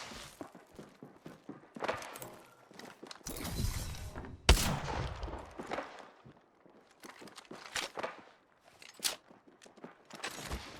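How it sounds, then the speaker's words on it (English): In an Apex Legends fight against a Wraith, irregular bursts of gunfire crack out close by, with a dense loud volley in the middle and quick footsteps and scattered shots around it. "the Wraith manages to hit some really good shots on me"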